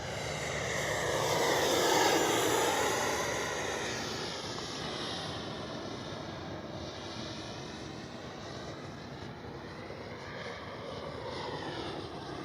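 An Arrows RC F-15 twin 64mm electric ducted fan model jet flies past with a steady, whooshing turbine whine that swells loudest early on, then holds a sustained roar as it passes overhead, alone without voices.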